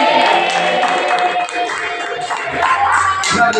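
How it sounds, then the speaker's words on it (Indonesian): Students in a classroom clap briefly, a short burst of scattered hand claps and taps with some shuffling and murmuring of voices. "Oke, tepuk tangan."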